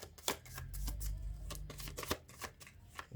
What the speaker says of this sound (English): Now I can just shuffle.